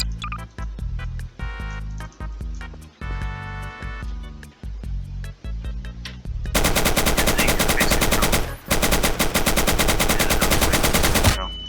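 Gunfire from weapons in Garry's Mod, first spaced single and short-burst shots, then a loud sustained automatic stream of rapid fire with one brief break, close and dominant.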